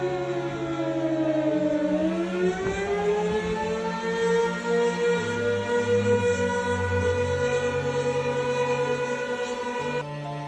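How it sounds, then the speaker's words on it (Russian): Civil defense sirens wail across a city in Colorado as a tornado passes, their tones rising then holding steady with overlapping pitches, loud and continuous for about ten seconds. "Жуткий гул сирен"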